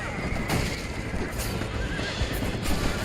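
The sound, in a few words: horse neighing in video game Red Dead Redemption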